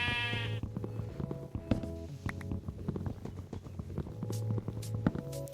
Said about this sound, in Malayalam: ആട് പോവാതെ നോക്കണം.